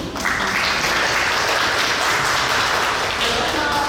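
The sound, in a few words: audience applause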